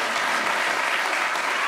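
A school spring concert audience applauds a fourth grade orchestra, with dense, steady clapping that fills the room from start to finish.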